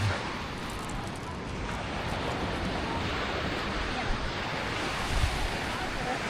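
Sea waves washing onto a pebble beach, a steady rushing surf with wind buffeting the microphone, fairly loud and continuous with a couple of slightly stronger wash surges near the end.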